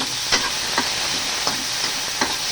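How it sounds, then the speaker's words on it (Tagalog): Tomato sautéing in a little vegetable oil for tinola, with a steady close sizzle broken by several sharp spatula scrapes and stirs against the pan, no voices. "Ginigisa, kunti lang mantika."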